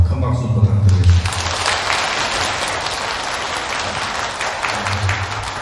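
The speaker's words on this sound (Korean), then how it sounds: "큰 박수 부탁드리겠습니다." An audience at a Buddhist temple dharma ceremony celebrating the publication of the Avatamsaka Sutra breaks into loud, sustained applause after a brief voice at the start, the clapping holding steady to the end.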